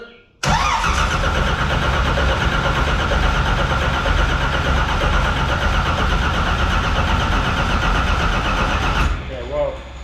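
Small-block Chevy engine in a 1964 Buick Special cranking over and catching into a loud, steady run for about nine seconds before cutting off, with voices briefly audible at the end.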